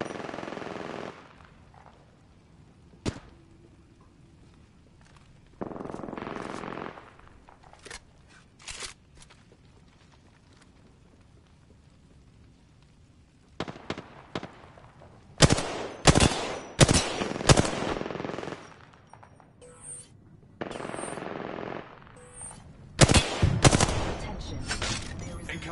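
Apex Legends gunfire comes in scattered bursts: short isolated shots early on, then dense rapid automatic volleys near the end, with quiet footstep-like shuffling in the pauses.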